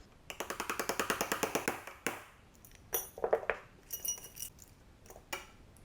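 Metal end caps are hammered onto VW pushrods for a 2332cc stroker engine, using old lifters as a buffer: a fast run of about fifteen sharp metallic taps, then scattered louder clinks and knocks, close and without speech.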